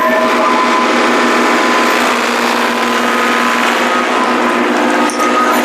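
A New Holland 5510 tractor engine runs loud and steady in first creeper gear, with a constant mechanical drone and rattling close by.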